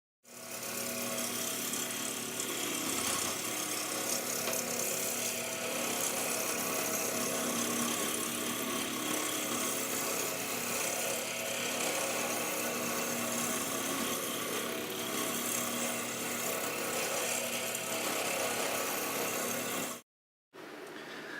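A lathe turning a cylinder runs steadily and loudly for a long stretch with a dense, grinding whir, then cuts off abruptly before briefly starting again.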